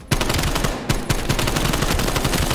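Rapid automatic gunfire in Call of Duty Cold War, loud and continuous with bursts of shots overlapping throughout, no talking over it.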